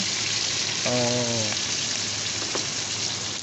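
Garlic frying in a pan for Filipino ginisang upo with pork, a steady close sizzle running throughout, with a brief voice heard once over it.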